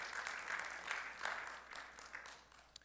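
A church congregation claps in praise during a Spanish-language sermon, a faint, brief burst of applause with uneven swells that tapers off.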